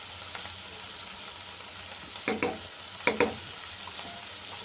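Spiny gourd frying in a pan, a soft continuous sizzle and hiss broken by a few short stirring scrapes, no speech.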